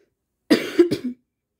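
A short burst of a few close coughs, harsh and throaty, then silence.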